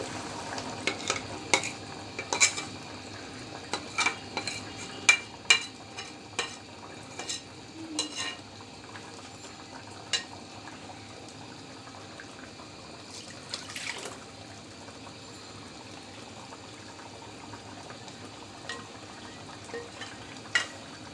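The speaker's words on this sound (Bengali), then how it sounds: "হ্যাঁ, এই আমার মাংস সিদ্ধ হয়ে গেছে এই তো এবার আমি ডালটা দিয়ে দিচ্ছি" Lentils stirred into boiled beef for haleem in a pot make a steady wet sizzle with a long run of sharp utensil taps and scrapes against the metal, repeated irregularly and fairly close, without talk.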